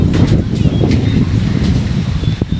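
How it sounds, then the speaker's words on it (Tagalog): Strong wind buffets the microphone in a steady low roar, with rustling in the background and faint voices. "Lakas ng hangin."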